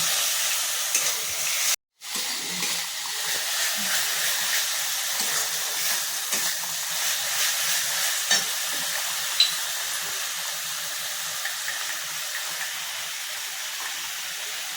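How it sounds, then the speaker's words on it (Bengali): Spice paste with ground tomato is stirred and sautéed in oil in a pan for a Bengali rohu fish with poppy seed curry, giving a steady soft sizzle with occasional scraping strokes and one brief dropout. "এই টমেটোটাও দিয়ে দিচ্ছি এগুলো দিয়ে আমি ভালো করে মশলাটা কষিয়ে নিচ্ছি"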